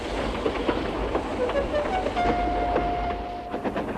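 A Tomy toy steam engine sets off along the line, a steady whistle-like tone sounding clearly for about a second over a busy rumble, with someone narrating throughout.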